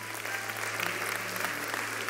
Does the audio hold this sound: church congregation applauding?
yes